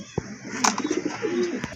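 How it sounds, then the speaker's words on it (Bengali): Pigeons at a breeding loft where birds are sold coo in a short, close burst of soft, throaty, rolling calls. "আর এখানে কিন্তু আরও কিছু কবুতর রয়েছে"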